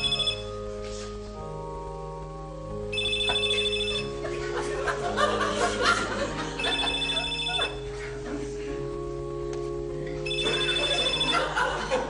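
A mobile phone ringtone repeatedly rings out during a live theatre play, its melodic tones cycling loudly for several seconds while the audience chuckles faintly and voices murmur underneath.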